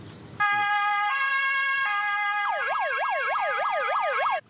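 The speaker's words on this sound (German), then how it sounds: "Sirene." German police car siren switched on, first a steady two-tone sequence of stepped pitches, then a rapid rising-and-falling wail repeating loudly and close, with no talking.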